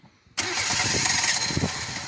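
An internal combustion engine catches abruptly after a brief quiet moment and runs at a steady idle, loud and close, during a troubleshooting test with one cylinder's spark plug cable removed.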